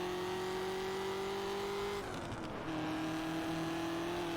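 A car engine in the racing video game Test Drive Unlimited revs loud and steady, then dips briefly at a gear change before climbing again at high pitch.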